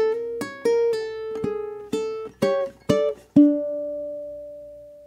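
Ukulele fingerpicked ending of an Eastern-style melody: a short run of about nine plucked notes in an uneven rhythm, ending on one sustained ringing note that fades slowly, played alone and close.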